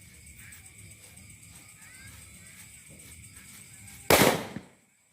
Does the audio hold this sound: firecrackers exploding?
yes